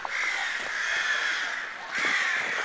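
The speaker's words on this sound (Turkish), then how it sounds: "Bol bol karga sesi, bu ne ya?" Crows caw repeatedly from trees in a Kars village in summer, a steady chorus of harsh calls with a louder burst near the end, with no talk over it.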